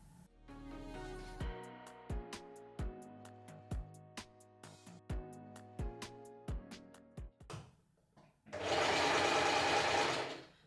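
A sewing machine stitches along a dress's centre line in short bursts: a steady rhythmic run of needle strikes, a pause, then a louder continuous whirring stretch near the end, close and clear.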